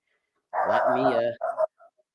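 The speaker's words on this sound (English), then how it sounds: "get that dog off my screen" A dog on a live feed screen lets out a short whining bark followed by a couple of quick yips, heard close and fairly soft against otherwise quiet surroundings.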